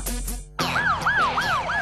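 An ambulance siren wails in a loud, repeating rising-and-falling sweep close by, starting abruptly after a brief burst of other sound and carrying on steadily.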